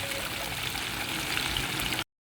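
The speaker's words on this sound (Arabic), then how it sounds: "وراح أضيف كاستين من المي" Water pours steadily into a cooking pot already holding vegetable oil, ready for rice, a continuous close rushing splash lasting about two seconds before stopping abruptly.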